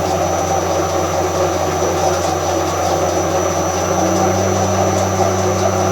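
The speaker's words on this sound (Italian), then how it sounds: "Questa sarebbe la velocità minima del mio tornio senza frequenzimetro." Lathe running at its minimum speed on a single-phase 220V inverter, giving a steady, loud mechanical hum with constant tonal whine and no pauses.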